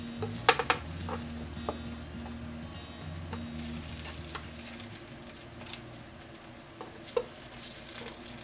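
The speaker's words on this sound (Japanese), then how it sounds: "水分を飛ばして表面をカリッと仕上げる。" Oyaki crisp in a frying pan, giving off a soft, steady sizzle with scattered little pops and ticks over a low kitchen hum, moderately quiet and continuous.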